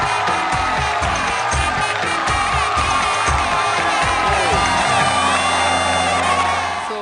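A crowd at a Tamil wedding reception cheers, whoops and shouts loudly and continuously as the bride and groom are welcomed onto the stage, with a steady low hum running beneath the later part.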